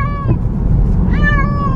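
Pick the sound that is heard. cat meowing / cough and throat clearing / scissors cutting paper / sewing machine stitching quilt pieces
cat meowing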